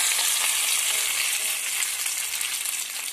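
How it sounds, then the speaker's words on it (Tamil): Beans kootu sautéing in a pan over a low flame gives a steady, close sizzle with a faint bubbling hiss, and there is no talk. "லோ ஃப்ளேம்லேயே வச்சுட்டு ஒரு 2 மினிட்ஸ் நல்லா வதக்கிக்கோங்க."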